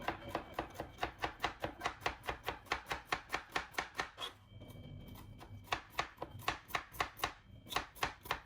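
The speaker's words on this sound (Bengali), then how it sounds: "তো আমি করলাগুলো অনেক সুন্দরভাবে কুচি কুচি করে কেটে নিছি, দেখতে পারতেছেন অনেক পাতলা করে" A knife chopping bitter gourd into thin slices on a cutting board, a fast, even run of crisp close chops that pauses briefly for about a second before resuming the same steady rhythm, with no talking.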